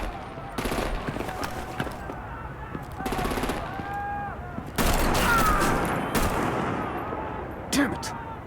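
Gunfire in the Batman: The Enemy Within video game, with bursts of rapid shots and sharp blasts in several clusters, mixed with game music and effects.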